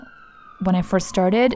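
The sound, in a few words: siren passing outside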